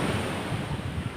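Sea waves wash onto Nattika beach, a steady broad roar of surf mixed with wind buffeting the microphone, close and continuous across a brief stretch.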